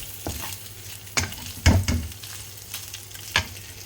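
Bacon fat sizzles and crackles steadily in a hot pan, with occasional scraping stirs and utensil knocks.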